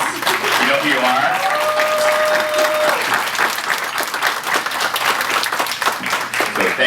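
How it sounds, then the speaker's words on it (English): A large conference audience applauds a planning committee, dense sustained clapping filling the room for several seconds with a few cheers and voices mixed in. "I want to give them a round of applause"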